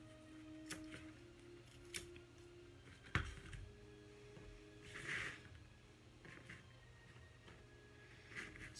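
Scissors trim a beaded garland strand with several quiet, crisp snips and small clicks spaced over a few seconds, heard close against a low background hum.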